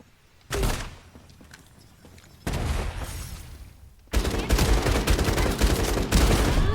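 Sniper rifle shots in the game FragPunk: a sharp blast near the start, another at about two and a half seconds, then a louder burst of rapid gunfire from about four seconds on.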